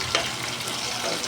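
Chicken pieces sizzle and crackle while being browned and stirred in a pan for a Filipino dish, a short close burst of frying hiss with a spatula scrape.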